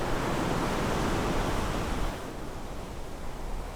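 Ocean waves roll onto the South Goa coastline as a steady, loud wash of surf that eases slightly partway through, with no voices.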